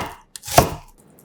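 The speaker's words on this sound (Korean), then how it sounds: "달큰한 양파 4분의 1개를 살짝 굵게 채 썰어주고" A knife thickly slicing a quarter onion on a board: a light tap followed by one firm, crisp cut, close and isolated.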